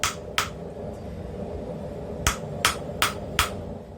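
Blacksmith's refurbished power hammer forging hot steel into a concave taper, giving sharp ringing strikes: two early blows, a pause with a faint tap, then four evenly spaced hits close by with no talk.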